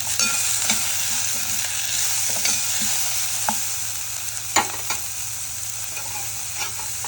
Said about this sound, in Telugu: కరివేపాకు, ఆనియన్స్ బాగా ఫ్రై చేసుకోవాలి.